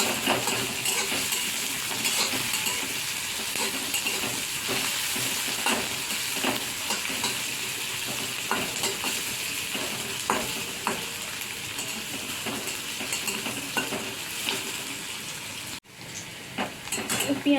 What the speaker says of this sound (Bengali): পেঁয়াজ কোচানোটাকে একটু ভালোভাবে নেড়ে চেড়ে ভেজে নেব।